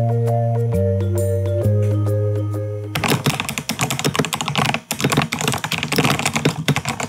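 Keys clatter on a compact, lightweight computer keyboard in a rapid, uneven burst of close, crisp clicks, coming after a few seconds of soft background music.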